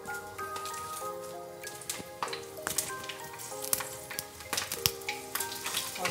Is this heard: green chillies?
yes